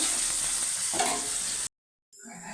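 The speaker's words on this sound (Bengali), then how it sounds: "আলুটা লাল লাল করে ভেজে তুলে নেব" Potato pieces frying in oil in a wok give a steady, close sizzle with a few stirring scrapes, then break off into brief silence and return more faintly.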